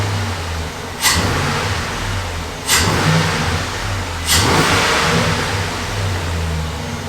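A gasser car with a huge exhaust idles steadily and loud up close, a low rumbling drone broken by three brief sharp bursts of higher noise, after a cleaned dirty throttle body.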